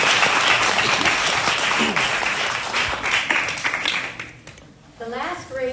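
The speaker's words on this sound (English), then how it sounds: "Another round of applause." Sustained audience applause at a Hawaii Kai community board meeting, dense clapping filling the room for several seconds before thinning out, with a voice speaking near the end.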